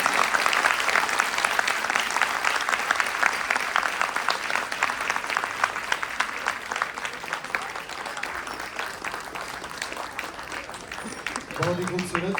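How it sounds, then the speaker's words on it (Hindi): Audience applause after a children's stage performance of the Ramayana, a dense continuous clapping that holds steady for the whole stretch and fades slightly near the end, with a voice briefly heard. "एक बार जोरदार तालियां हो जाए इस प्रस्तुति के लिए"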